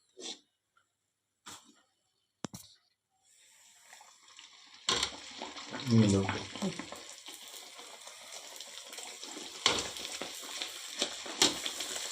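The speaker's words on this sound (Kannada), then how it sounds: "ಇಲ್ಲಿ ಎರಡು ಸೈಡು ಕೆಂಪಾಗುವ ಹಾಗೆ ಹುರ್ಕೊಳ್ಳಿ" Biscuit roti frying in a pan, a steady sizzle that swells after a few seconds of quiet stirring clicks and continues close and moderately loud, with a brief bubbling burst near the start of the frying.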